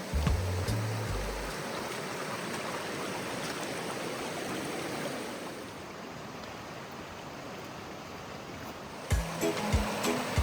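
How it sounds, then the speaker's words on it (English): Creek water rushing steadily alongside a hiking trail on the East Fork San Gabriel River, a continuous broadband flow heard close and loud throughout, with a few brief low knocks at the start and near the end. "Now we're alongside the creek on the right."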